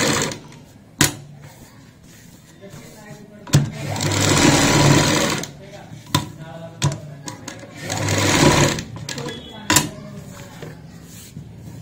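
Sewing machine stitching a cutwork design on a Punjabi salwar cuff, running in loud steady whirring bursts with brief pauses and sharp clicks between runs, close up.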